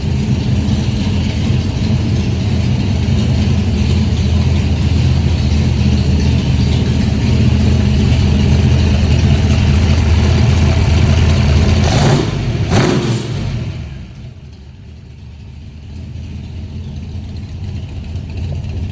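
A 1965 Shelby Cobra's engine idles with a loud, deep rumble, then blips sharply in a quick rev around twelve seconds before dropping back to a quieter idle that swells again, close and alone.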